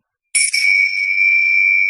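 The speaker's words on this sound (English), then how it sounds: "these are Tibetan prayer bells" Tibetan prayer bells struck once, close by. The tone starts sharply and then hangs as a steady, bright ringing with several pure overtones that fade only slightly. No one speaks.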